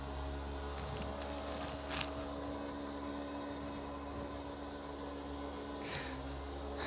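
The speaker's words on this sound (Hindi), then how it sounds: "बाइक चला रहा है वहाँ पे बगल में" A motorbike runs nearby in the background, giving a steady, low engine drone that holds evenly throughout, fairly faint and continuous with no clear revving.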